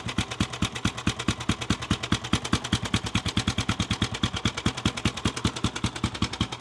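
A 1936 Benelli 250 motorcycle engine runs alone and close by, its loud, rapid, even exhaust pops firing in a steady gunshot-like rhythm.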